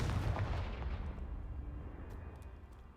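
A Confringo fire spell blasts a pile of debris in Hogwarts Legacy, a loud, booming explosion that hits at once and then rumbles and decays slowly over a few seconds, with no talk.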